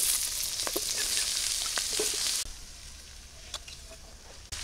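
Onion, green chili and chopped tomato sizzle steadily in hot oil for khichuri, a dense crackling fry that drops in loudness partway through as the ingredients go in and are stirred.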